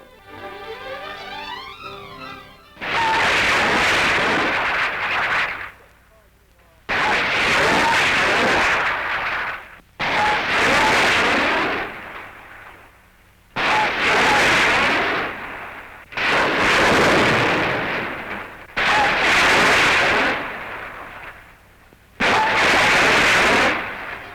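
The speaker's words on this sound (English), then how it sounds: "Here is the latest rapid-fire launcher. Shooting two 5-inch rockets in salvo" A rapid-fire launcher sending off 5-inch rockets, heard as six loud, roaring whooshes spaced a few seconds apart, each a long rushing blast, in old archival newsreel sound.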